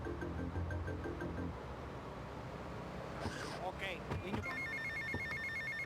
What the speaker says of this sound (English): I interrupted him with my phone ringing